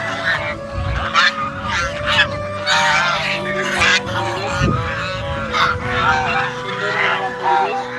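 A flock of domestic ducks or geese honks and quacks repeatedly in a village beside the Kopotakkho river in Chougachha, Jessore, the calls overlapping near and loud with people talking and general outdoor bustle underneath.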